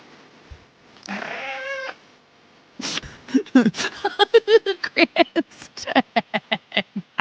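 A cat gives a drawn-out meow, then after a short pause breaks into a rapid run of loud, choppy meows and chirps, close by.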